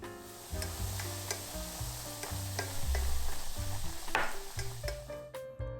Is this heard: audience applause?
no